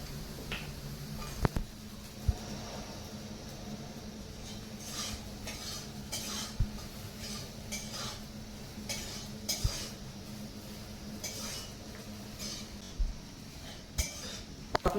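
A utensil stirs and scrapes in a pan over a quiet sizzle of soya chunks frying with salt and turmeric, with occasional sharp clinks standing out against the low steady hiss.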